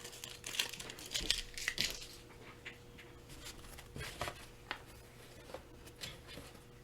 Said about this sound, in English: Pull the tape off.